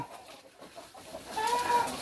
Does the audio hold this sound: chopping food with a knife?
no